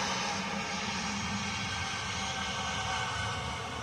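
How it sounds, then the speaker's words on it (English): A loud airplane flies overhead, its broad, steady engine roar filling the whole stretch without a break and with no talking over it. "That's so loud. Airplane."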